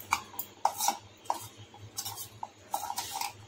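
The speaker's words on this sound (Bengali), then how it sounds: "আবার একটু নেড়ে চেড়ে নেব।" Chatpata aloo tossed with chaat masala in a pan, stirred with a utensil: sharp scraping clinks and taps land in an irregular rhythm over a low steady hum, close and moderately quiet.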